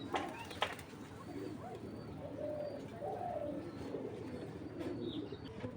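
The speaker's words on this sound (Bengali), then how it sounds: "বিগ সাইজের একটা কবুতর।" Big giribaz pigeon cooing softly in a loft, low murmuring coos repeating through steady background noise.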